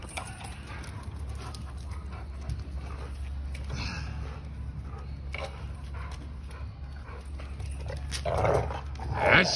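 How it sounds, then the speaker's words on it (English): American Bandog dogs growl and whimper with low, sustained rumbling and a few sharp vocal bursts, close by, building louder toward the end. "These are my band dogs."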